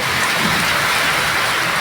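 Heavy rain pours steadily onto a thatched roof, a dense, even hiss with no pauses and no voices.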